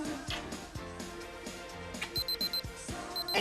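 A pager beeps in a quick run of short, high electronic pulses, starting partway through and repeating over steady background music with a drum pulse.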